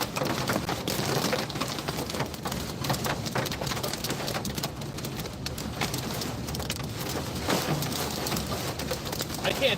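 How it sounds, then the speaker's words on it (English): Hail pounds down in a severe storm, a dense continuous roar of pelting ice with scattered louder impacts, steady and close throughout. "It looks like the hail is bigger than what radar was anticipating."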